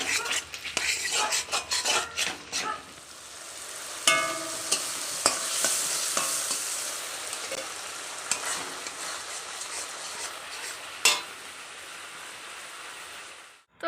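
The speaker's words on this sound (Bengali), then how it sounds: "এদিকে চিকেনের জন্য মশলাটা এদিকে কষাচ্ছি এখন" Spice paste for chicken being stir-fried in a pan, a close sizzle with repeated scraping strokes of a spatula, rhythmic at first then a steady frying hiss with occasional clanks.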